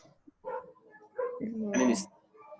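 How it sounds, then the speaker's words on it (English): A single dog barks a few times nearby, mixed in with people talking in the background. "Whose dog is barking?"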